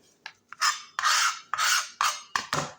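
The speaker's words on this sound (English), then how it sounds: "got my knife here, I like to go in like that. I'm going to trim little bits of excess there" A kitchen knife trims excess bits off an onion, giving about six short, close scraping strokes in a quick, uneven rhythm.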